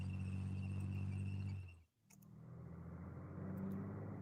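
A truck carrying infantry in a war strategy video game hums with a low engine rumble, drops out briefly, then resumes softly at a distance, no voices.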